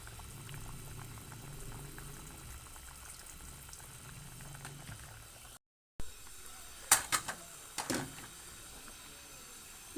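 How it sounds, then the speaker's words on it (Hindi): Water coming to a boil in a cooking pot for aloo matar pulao, a steady close bubbling hiss with a few sharper pops and splashes near the end and a brief break in the middle. "जी पानी को उबाल आना शुरू हो चुका है।"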